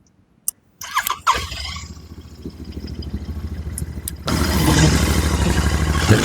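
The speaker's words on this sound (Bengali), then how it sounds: "স্টার্ট করে গাড়িটা আওয়াজ শুনে একদম।" A three-month-old Royal Enfield Bullet motorcycle, around 2025 model, cranks with a few clicks and catches, then settles into a loud, close thumping idle that grows stronger and heavier toward the end.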